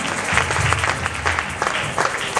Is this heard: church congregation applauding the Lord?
yes